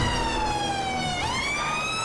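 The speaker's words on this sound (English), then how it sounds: "Put my sirens on now, this is when they're needed." A UK police BMW siren in the GTA 5 LSPDFR game wails loudly and steadily, its tone sweeping down and then back up as it shifts pattern.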